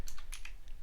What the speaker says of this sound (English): It's kind of hard to type with my keyboard